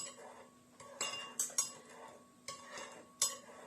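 Garlic, oil, soy sauce, honey, salt, paprika and vinegar being stirred together as a marinade: soft, intermittent clinks and taps of a utensil against a bowl, close but quiet.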